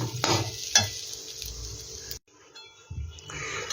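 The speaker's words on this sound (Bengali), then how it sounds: "চালটা কিন্তু একটু ভালো করে ভাজতে হবে।" Raw rice is fried and stirred in a pan for a rice-and-pointed-gourd dish, giving close scraping strokes over a soft sizzle, then a brief near-silent pause before the stirring and frying resume.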